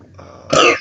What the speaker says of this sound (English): That was a weak burp.